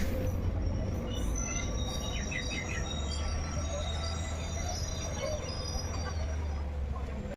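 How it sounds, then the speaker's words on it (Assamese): A train passes close by near a station and railway crossing gate, giving a steady low rumble throughout with thin metallic squeals above it. Faint voices and a few bird chirps sit in the background. "এই ট্ৰেইনখন যাওঁ চাই মাত্ৰ"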